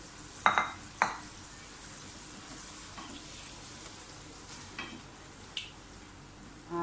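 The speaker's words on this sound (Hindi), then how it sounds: "सारी चीज़ों को अच्छी तरह से भूनें।" Mutton masala for degi biryani fries in a pot, a steady low sizzle broken by a couple of sharp metallic spoon scrapes early on and softer stirring clinks later, with no talk.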